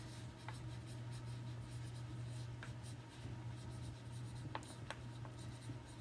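Handwriting on the back of a chalk transfer laid on a cloth, heard as soft, faint scratching strokes over a steady low hum, with a few brief sharper marks.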